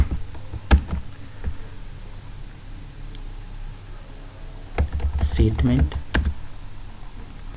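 Java code typed on a computer keyboard in NetBeans, heard as scattered key clicks in short bursts beneath a man's spoken explanation.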